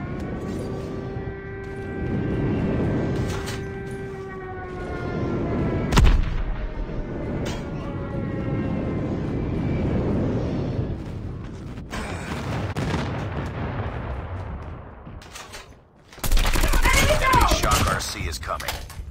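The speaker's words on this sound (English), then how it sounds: "Friendly airstrike incoming." Call of Duty airstrike: a swelling roar with whistling tones, then a sharp blast and rumbling explosions, with a second heavy burst of explosions near the end.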